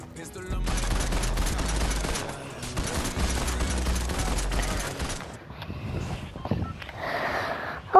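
Dense bursts of rapid gunfire from the video game Fortnite crackle loudly in two long volleys over a deep rumble, then fade into quieter game sounds near the end.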